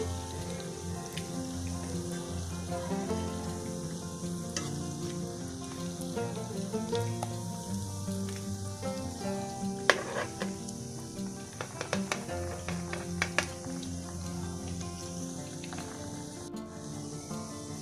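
Potato donuts frying in hot oil, turned over to cook the other side: a steady, crackling sizzle runs throughout beneath a layer of background music, with occasional sharper pops and clinks.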